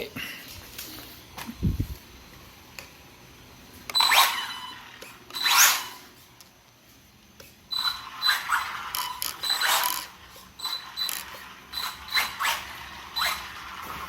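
Arrma Infraction Mega 3S RC car with an upgraded drivetrain whirs and ratchets after being switched on, with a low thump at the start, then bursts of gear whine and clicking that come and go nearby.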